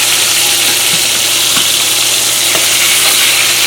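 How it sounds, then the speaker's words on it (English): Pork chops sizzle and fry steadily in a pan, a loud, continuous hiss with occasional faint crackles and pops, close up with no talking. "I got these pork chops cooking"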